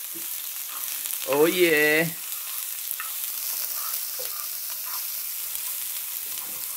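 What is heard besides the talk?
shrimp sizzling while frying in a pan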